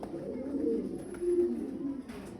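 Pigeons at a pigeon farm cooing in low, throaty rolls, a couple of overlapping calls nearby, steady and soft with a light background murmur.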